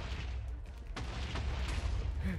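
Several grenades explode in a Minecraft battle against zombies, making a continuous rumbling roar broken by a few sharper bursts, dense and steady throughout.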